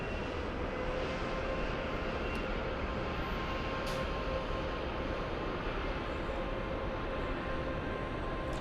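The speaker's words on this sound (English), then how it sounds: "We have an Airbus A320. Yes, it's flying to Portland. Excuse me, A319. And it is entering the runway." An Airbus A319 jet rolls onto the runway at LAX, heard as a steady, distant broadband engine roar with a constant rumbling drone and no change in level.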